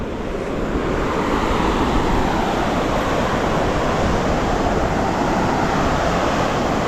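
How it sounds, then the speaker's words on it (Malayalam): Water from Chimmini Dam rushes with force in a loud, continuous, roaring wash that stays close and steady throughout, with no talking. "നല്ല ഫോഴ്സിൽ വെള്ളം വരുന്നുണ്ട്."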